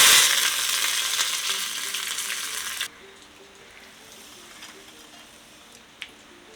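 Mustard seeds and curry leaves crackle loudly in hot coconut oil for masala poha, a dense close sizzle lasting almost three seconds before cutting off abruptly to near quiet with one small knock.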